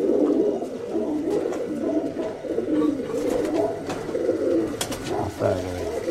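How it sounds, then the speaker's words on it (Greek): Show pigeons coo continuously at an outdoor pigeon festival on Salamina, a dense low murmur of many birds throughout, with a few brief sharper sounds and a bit of background noise near the end. "Όλα τα περιστέρια φανήκανε."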